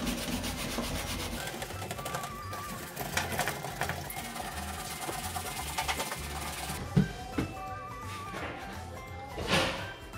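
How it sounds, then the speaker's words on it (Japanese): A stiff brush scrubs a bathroom door in steady back-and-forth strokes, a close, textured rasping that continues throughout with a few louder knocks near the end. "もうちょっと強めのブラシで磨いていきます。"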